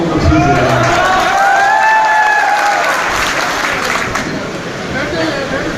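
A large crowd at a public gathering in Bengaluru applauds and cheers loudly, a dense continuous wash of clapping with shouts and babble throughout.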